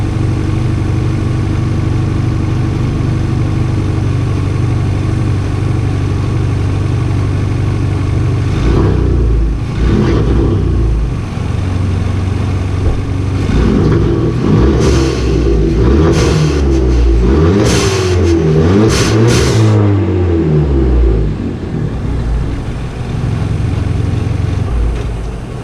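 A Hyundai Elantra Sport turbo engine with a Sxth Element charge pipe idles with a steady low rumble, then is revved several times in quick bursts that rise and fall before settling back to idle, loud and close.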